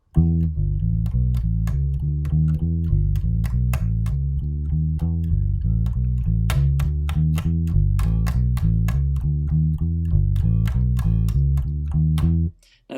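Bass guitar plays a one-bar looped chorus riff, a punchy, rhythmic, repeating funk line heard alone and steady until it stops abruptly at the end.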